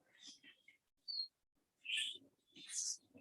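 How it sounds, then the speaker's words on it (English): Birds sing outdoors in short, bright chirps and trills, a few separate calls spaced across a quiet background, fairly close. "the birds are so loud, as though they are walking with us through this meditation"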